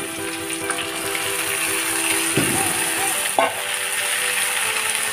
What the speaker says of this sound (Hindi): पियाज आरु आदा नहरुखिनि मोर बादामी रं हुआ लैके भाजिम।